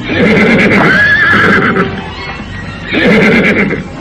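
A horse neighs loudly in a radio drama sound effect, one long shrill whinny followed after a pause by a second burst, close and clear with no talking.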